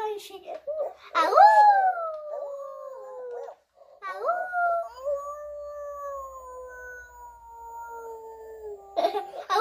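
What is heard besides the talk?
FurReal toy dog howling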